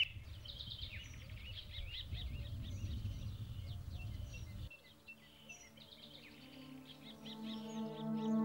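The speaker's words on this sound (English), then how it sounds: "there rose a sound never heard before on the front line, a dawn chorus of birdsong" A dawn chorus of birdsong rises on a former front line, many faint chirps and trills overlapping at a distance above a low rumble that drops away halfway through.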